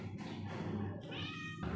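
A pet cat gives two short meows, the second clearer and more tonal, close by against a constant hiss of background noise.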